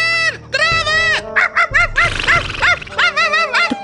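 A dog barks beside a pony in a rapid run of high, whiny yaps and yelps, close and loud, with other sounds in the background.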